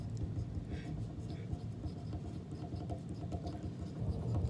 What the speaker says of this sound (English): my pencil writing, which I think is a pretty soothing sound